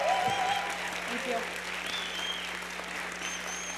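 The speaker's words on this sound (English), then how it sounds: "Give her a big round of applause." Sustained audience applause after a scholarly presentation, steady dense clapping from a seated crowd filling the room for several seconds, with faint voices underneath.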